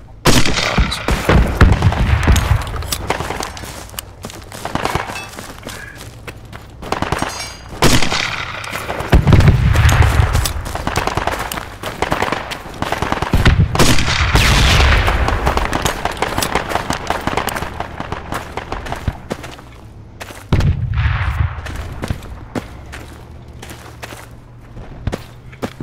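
Weapon fire in a military game: repeated loud booming shots and blasts, separated by irregular gaps, with crackling high-end bursts and some movement noise between them.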